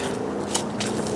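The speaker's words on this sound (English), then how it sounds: "yep, that is the sound of traffic" Distant road traffic heard from a forest trail in Oregon's dark woods: a steady, faint broadband wash of far-off vehicles with a couple of soft crunches near the listener.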